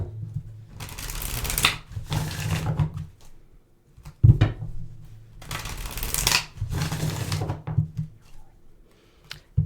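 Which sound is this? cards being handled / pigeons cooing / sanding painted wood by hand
cards being handled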